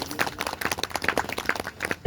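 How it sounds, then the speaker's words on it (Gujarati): Audience applause welcoming a family at a devotional bhajan satsang program, a brisk run of scattered hand claps, moderately faint and irregular, with the crowd clapping unevenly throughout. "એટલે આ પરિવારનો જોરદાર તાળીઓના ગરગરાટથી આપણે વધાવીએ"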